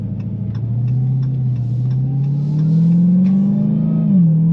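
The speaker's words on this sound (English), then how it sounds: "I love blower whine." Supercharged 797 hp 2021 Dodge Charger SRT Hellcat Redeye Widebody accelerating from inside the cabin, a steady deep engine drone rising slowly in pitch, with faint blower whine over it and a short dip near the end.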